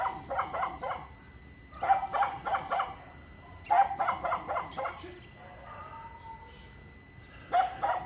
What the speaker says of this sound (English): Hear all the noise, all the dogs in the background?